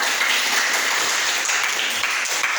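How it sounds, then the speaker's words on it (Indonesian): A high school class in a microteaching lesson applauds a student group, brisk steady clapping from a room of students filling the short moment without pause. "Tepuk tangan untuk kelompok"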